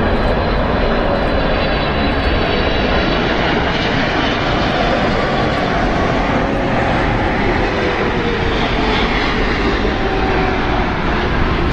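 Air Canada Boeing 777-300ER airliner coming in to land, its loud, continuous jet roar filling the whole stretch with no voices over it.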